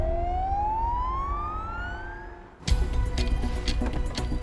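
An ambulance siren wails with a rising tone that climbs steadily, then cuts abruptly into a burst of louder, busier traffic and engine noise close by.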